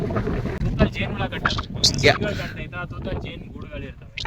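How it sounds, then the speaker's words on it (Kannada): Gusty wind buffets the microphone in rough bursts on Ramadevara hill in Ramanagara while a person talks over the noise. "ಹೆವಿ ಗಾಳಿ ಇದೆ"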